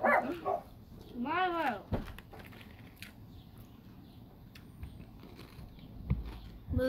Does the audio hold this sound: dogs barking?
yes